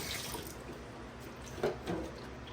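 Water poured in a small amount over raw chicken being rinsed for Jamaican brown stew chicken, a soft steady splashing trickle with a couple of louder splashes near the end.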